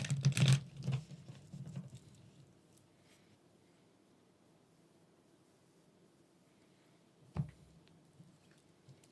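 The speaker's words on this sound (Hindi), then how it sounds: "एक बार और डिफरेंट तरह से शफल करते हैं।" Tarot cards being shuffled by hand, soft papery riffling and pattering near the start, then a long quiet stretch and one more short card tap later.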